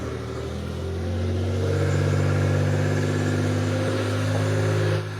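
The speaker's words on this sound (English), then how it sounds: "on cold startup, Maserati does seem to idle high for the first 10 seconds or so" A Maserati 222 BiTurbo engine idles high just after a cold start, holding a steady loud hum with a low drone for several seconds before cutting off abruptly at the end.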